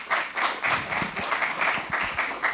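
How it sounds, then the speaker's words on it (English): An audience at a film promotion event for Prem Ratan Dhan Payo breaks into applause, a dense patter of many hands clapping at moderate distance for a couple of seconds without pause. "A big round of applause there for what we saw."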